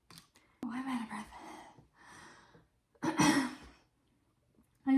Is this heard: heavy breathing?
yes